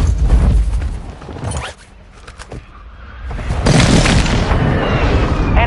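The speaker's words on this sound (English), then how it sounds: "Hostile airstrike incoming." Airstrike explosions in a video game, loud rumbling booms that start heavy, ease into a quieter stretch with scattered sharp cracks, then surge back into a dense roar of blasts.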